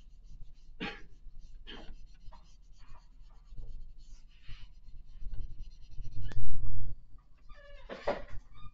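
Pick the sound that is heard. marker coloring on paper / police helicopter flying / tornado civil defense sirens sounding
marker coloring on paper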